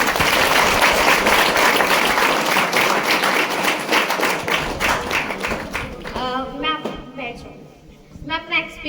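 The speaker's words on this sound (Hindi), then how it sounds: "जोरदार ताली" Students in a classroom burst into loud, dense applause that gradually thins out, with a voice and scattered talk coming through near the end.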